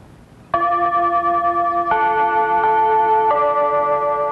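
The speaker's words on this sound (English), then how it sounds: "Every morning at exactly 8:15, the chimes dance across the city." City chimes ring out across the city in the morning: bright, layered, sustained tones, new notes striking every second or so and overlapping into a resonant, bell-like chord.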